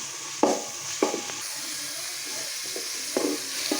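Curry leaves drop into chicken curry frying in a pan, setting off several sharp bursts of sizzling over a constant background crackle of hot oil.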